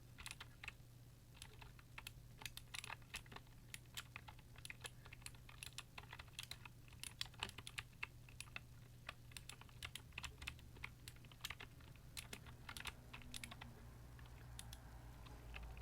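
Typing on a FEKER Mechanist 01 60% mechanical keyboard at a slow, uneven pace, with scattered individual key clicks over a steady low hum, close and moderately loud throughout.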